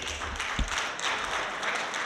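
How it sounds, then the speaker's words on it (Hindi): Audience applause at a business presentation in Delhi, a moderate burst of many hands clapping in a room, fairly steady with a slight thump partway. "जोरदार तालियां लगाइए सर के लिए"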